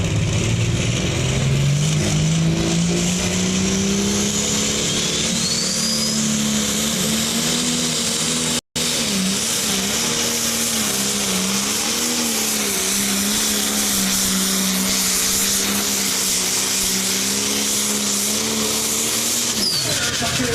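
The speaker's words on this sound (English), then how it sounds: "Here comes the limited pro stock out of Cyrus, Ohio, John Deere 5020." A John Deere 5020 limited pro stock tractor running at a tractor pull, a loud sustained engine drone that rises in pitch and holds, with an announcer talking over it.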